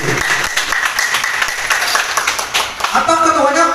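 Applause and clapping from an audience at a Lampung Selatan cyclists' coordinators' congress, dense and steady throughout, with a voice speaking over it near the end.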